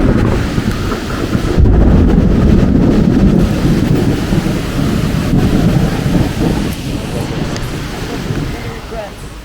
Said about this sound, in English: it was so loud with the rain hitting the ground, and there was puddles forming all over